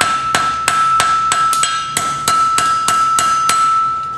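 Rapid ringing hammer blows on a hot horseshoe at forging temperature, turning the branch over an anvil horn; about a dozen sharp metallic strikes in steady rhythm, loud and close, with a bright ringing tone sustained beneath.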